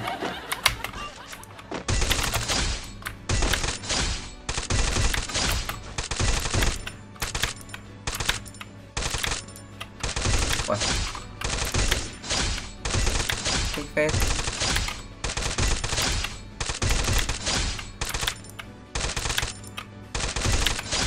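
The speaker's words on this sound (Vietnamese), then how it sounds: "Uầy, bắn sướng phết anh em ạ, bắn sướng quá ấy" Rapid bursts of machine-gun fire from a gun in a shooting video game, loud and close, repeating in dense volleys with short gaps throughout.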